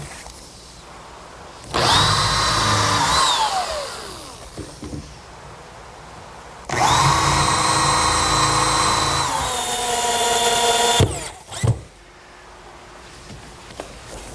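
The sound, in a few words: power drill driving screws into wooden picnic table cleat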